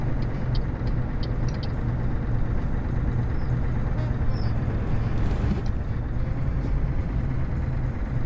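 A truck in Euro Truck Simulator 2 drives along with a steady, loud engine rumble and road noise that continues without a break, with no voices over it.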